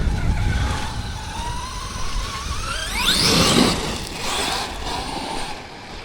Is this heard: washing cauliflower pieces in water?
no